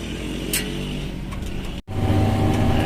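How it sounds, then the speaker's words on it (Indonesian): A car moving off from a stop, its engine humming steadily and swelling slightly after a short break, with a continuous low road rumble and no voices. "Nah, mobil udah mulai jalan nih."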